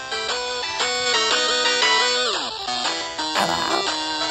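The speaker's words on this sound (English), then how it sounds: "it's ringing, ringing" A phone rings with a bright, melodic electronic tone, repeating a looping pattern of notes with sliding pitch sweeps, heard alone and fairly loud.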